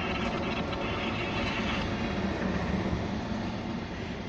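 A steady, continuous rumble and rolling roar of a passing CSX local freight train, loud and close, with no pauses.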